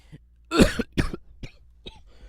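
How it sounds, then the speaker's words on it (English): A few harsh coughs close to the mic, one heavy burst followed by a couple of smaller ones, with a bit of throat clearing. "if you hear me coughing and shit or wheezing"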